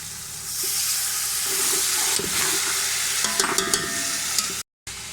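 Spices sizzling and crackling in a hot pan while making pakora kadhi, a steady frying hiss with a few stirring clinks and a short cut-out near the end.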